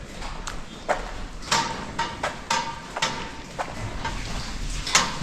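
Brown Swiss cows walk into metal headlocks in a dairy barn, their hooves and the gear making sharp, irregular knocks and clanks about every half second, close by.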